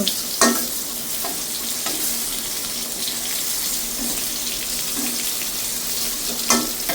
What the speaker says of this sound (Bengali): এই পাশে করার মধ্যে পটল ভাজি করতেছি পটল ভাজিগুলো সবগুলো মশলা তেলের মধ্যে দিয়েছি